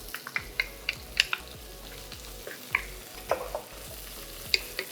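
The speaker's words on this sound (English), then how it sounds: "adding the chopped onion." Chopped onion and ginger frying in a hot pan for poha upma, a soft steady sizzle under scattered clicks and scrapes of stirring, fairly close and quiet, with no talking.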